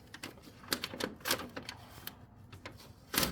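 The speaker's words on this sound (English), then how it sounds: "I'll take my utility knife, just trim it a little bit." Utility knife trimming material tucked into a corner beneath a rafter in a shop: a series of short, sharp scratchy strokes and ticks, close and quiet, with no voices.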